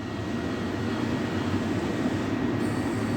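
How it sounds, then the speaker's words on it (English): Southeastern Class 375 electric train at Ashford International station, a steady loud rumble of wheels and motors running throughout, with no voices. "The 10:30 Southeastern service from Ramsgate and Ashford International to London Charing Cross."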